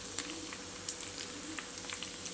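Potatoes frying in a pan, a soft, steady sizzle with faint scattered crackles and pops, quiet and close, no voices.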